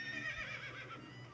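A horse in the Scooby-Doo video game gives a short, fairly faint whinny, a quick wavering neigh over a quiet low hum, with no voices.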